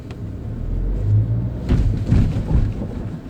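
A manual-transmission car's engine revs slightly too high from extra gas, producing a steady low rumbling drone that swells a little, heard from inside the car with no talking.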